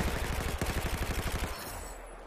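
An S23 gun fires a rapid, even burst in Battlefield 4, about a dozen or more punchy shots in steady rhythm, loud and close, ending with a low rumbling tail as the firing stops.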